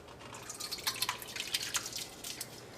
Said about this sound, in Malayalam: ഇനി നമുക്ക് സാമ്പാർ കറി വയ്ക്കാൻ വേണ്ടിയിട്ട് വേവിച്ച് വെച്ചിരുന്ന പരിപ്പ് നമുക്ക് ഇതിലേക്ക് ഒഴിക്കാം